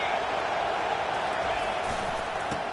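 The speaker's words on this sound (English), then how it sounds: "This crowd trying to make life miserable for this offense." A stadium crowd roars steadily at a Tennessee college football game, a loud continuous wash of cheering beneath a play-by-play commentator's voice.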